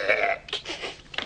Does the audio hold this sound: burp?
yes